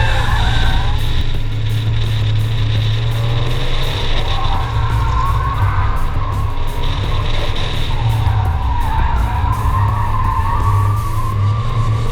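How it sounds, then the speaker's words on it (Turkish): A Fiat 124 Spider skids around the Tuzla karting track with sustained tire squeal over a loud, revving engine that rises and falls through the corners, close and continuous. "Jason'la beraber Fiat 124 Spider'la Tuzla karting pistinde"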